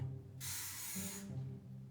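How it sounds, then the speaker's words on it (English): A single spray of soap onto turmeric gives a short, close hiss of about a second over a faint hum. "Something happens when you spray the soap on the turmeric and it turns red."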